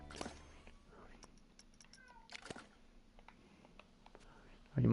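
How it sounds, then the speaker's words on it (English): Cat meowing in the background indoors, a few faint, distant meows and short cries scattered among quiet clicks, with a sharp loud knock at the very end. "If you hear a cat meowing in the background."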